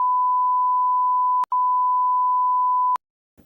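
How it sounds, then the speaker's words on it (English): A pure electronic censor bleep sounds twice, each a steady tone lasting about a second and a half with a short gap between them, followed by a faint trace of sound at the end. "I'm gonna bleep it out"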